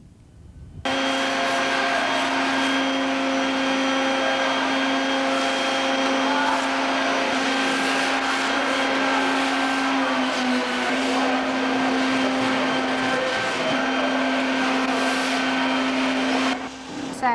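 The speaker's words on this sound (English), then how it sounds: "I couldn't give the date earlier because of the noise of the vacuum" A vacuum cleaner runs steadily and loudly at a church construction site, its whine holding constant for about sixteen seconds with no break, starting abruptly after a quiet first second.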